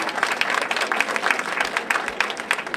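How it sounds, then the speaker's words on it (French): Wedding guests applaud together in a steady, dense burst of clapping that fills the room, sustained at a moderate level throughout. "Sous vos acclamations."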